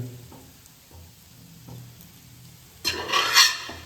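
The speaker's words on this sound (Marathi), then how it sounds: "आपण तो राईस टाकला त्याच्यात आणि मिक्स करून घ्यायचे" Cooked rice is stirred into spiced pulao in a pan with soft, repeated scraping strokes, quiet at first, then a louder, brisk rasping stir near the end.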